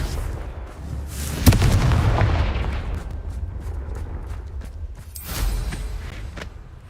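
A blasting fire spell in a video game goes off with a sharp, booming explosion, followed by a rumbling, crackling tail. A second, softer burst comes near the end.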